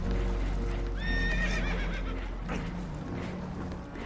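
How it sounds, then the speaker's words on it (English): Spooked horses whinny in the game Red Dead Redemption 2 aboard a damaged boat, a high shrill neigh rising over a dense rumble of engine or water noise and clattering hooves. "Horses are spooked, and we're taking on water."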